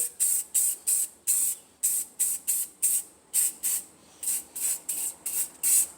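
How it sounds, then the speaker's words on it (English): Short bursts of aerosol spray paint hissing from a can onto plywood, about fifteen quick puffs in a steady rhythm with brief gaps, close and fairly loud. "we just spray it"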